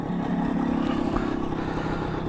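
An MZ TS125 two-stroke motorcycle engine ticks over at idle around 2,000 rpm, parked in the shade, giving a steady, close, even burbling putter with no voices.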